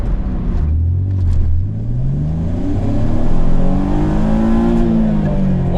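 V6-swapped Acura Integra engine revving up toward its roughly 7,000 RPM redline, a loud, close rising engine note climbing in pitch over several seconds without speech.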